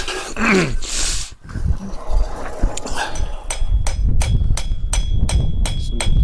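Sharp metallic hammer strikes on a chisel cutting hot metal ring out in a steady run, one after another, with some scraping and shuffling in the first seconds.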